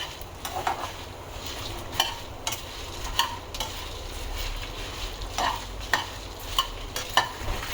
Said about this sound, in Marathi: आता ह्याच्यातच आपण धने घालणार आहोत गॅस मंद आचेवरती भाजायचं हे सगळं